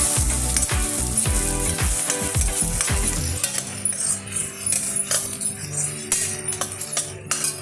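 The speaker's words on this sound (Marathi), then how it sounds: "गाजर घालून एक एक वस्तू घातली की परतून घ्यायचं" Carrots and other vegetables sauté in a pan for a wheat pasta dish, with a steady close sizzle, clinks of a stirring spoon against the pan, and a scraping rhythm easing off partway through.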